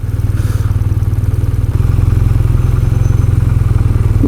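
A BMW R12 cruiser motorcycle engine fires up and settles into a loud, steady, low-pitched rhythmic idle that thickens slightly partway through, heard close up with no talking.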